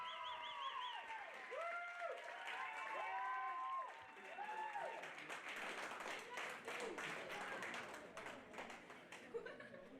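Applause at a pony show-jumping team prize-giving: dense crowd clapping builds and rolls on through the second half, preceded by warbling, whistle-like tones, with voices mixed in.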